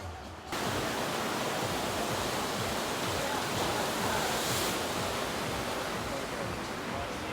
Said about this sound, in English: Sometimes I like going over here to this little surf simulator. It's called Super Surf.